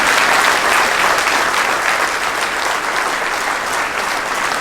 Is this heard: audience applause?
yes